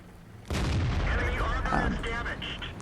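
A tank gun fires in World of Tanks from an E-50-M, one loud close boom followed by rumbling echo and game effects, with a voice talking faintly underneath.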